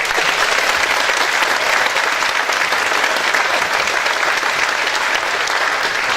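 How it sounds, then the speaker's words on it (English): Dense, steady applause from an audience honoring middle school students, loud and continuous from start to finish with no voices rising above the clapping. "Would you please give them a round of applause?"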